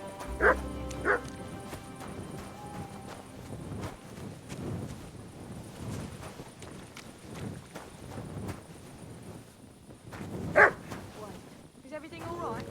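A dog in the medieval role-playing game Kingdom Come Deliverance II gives a pair of quick barks near the start and another sharp bark later, amid game background sounds and soft movement.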